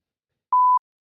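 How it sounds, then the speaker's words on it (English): A single censor beep button tone sounds alone: one clean, steady pure beep lasting about a quarter second, loud against silence. "That's why I have a beep button."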